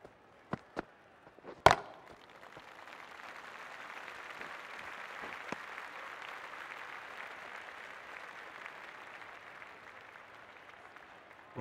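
A crowd applauds at a women's Big Bash League cricket match between Brisbane Heat and Hobart Hurricanes. A few sharp knocks come first, then steady, moderately distant clapping carries on to the end.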